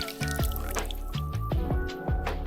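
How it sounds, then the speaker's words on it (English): Hot sugar mixture poured from a pot into a bucket for winemaking, with close, gurgling liquid splashes and drips that come in several uneven surges, no talking. "I'm just going to pour my sugar mixture down in there."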